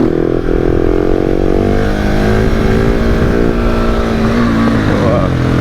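KTM 690 SMCR 2019 single-cylinder motorcycle engine held at steady high revs during a wheelie, loud and close with a slowly rising pitch, wind buffeting over it.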